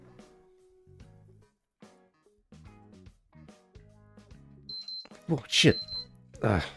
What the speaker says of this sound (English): Yeah, sorry, that's my alarm.